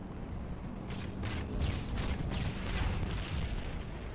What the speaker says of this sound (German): Irgendwas beschießen sie noch.